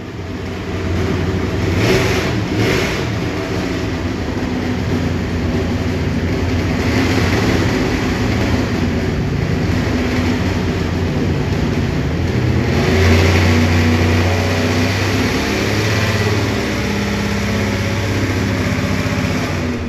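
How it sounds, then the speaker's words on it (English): An alcohol-burning big block Chevy engine runs rough on a dyno, refusing to take throttle, with a loud, continuous, uneven roar and sputter that holds steady throughout. "the engine's really rough and it will not take the throttle."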